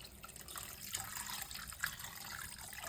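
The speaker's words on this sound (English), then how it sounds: "We will pour water around 1 liter and liter and a half," Water poured over chicken bones in a pot for cabbage soup stock, a steady broadband splashing that runs on without a break at a moderate level.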